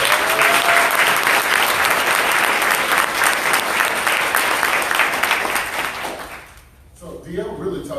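Audience applause, loud and continuous for about six seconds, then fading away as a voice begins speaking near the end.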